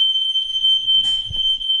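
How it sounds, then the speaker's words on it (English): A fire alarm blares with a steady, piercing high tone that runs unbroken through the whole moment, loud and close, with faint room bumps beneath it. "We have a fire alarm going off."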